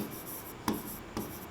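Chalk or marker strokes on a classroom board during a polity lesson, two brief scratchy taps standing out against a steady quiet room hiss, with no talking.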